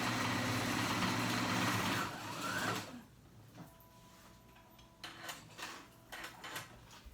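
A sewing machine runs a zigzag stitch on summer cover-up fabric, buzzing loudly and steadily for about three seconds before stopping, followed by quieter handling noises and short mechanical clicks.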